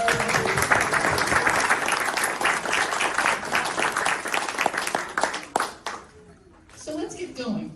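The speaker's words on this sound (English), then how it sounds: "Let's give a round of applause." An audience breaks into loud, dense applause that carries on for several seconds, then trails off into scattered claps and a voice.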